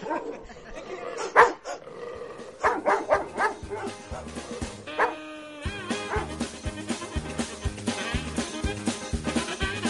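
A dog barks repeatedly over loud, rhythmic music at a lively event, with brief yips mixed in among the beat.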